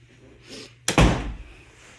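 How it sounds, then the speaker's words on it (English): An interior door swings shut by itself, drawn by air pull from a vent, ending in a single loud close thud with a short rattle after a brief faint rustle. "Man, these doors really like to close."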